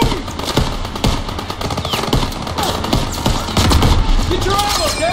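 Machine gun fire during a Normandy beach landing in Call of Duty WW2, rapid dense bursts mixed with scattered gunshots and battlefield noise, loud and continuous, with shouted voices under the fire.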